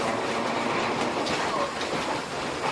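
A historic tourist tram (bonde) rolls through the old city centre of Santos, Brazil, its wheels rumbling and rattling steadily on the rails, loud and close, with a brief faint squeal partway through and no voices.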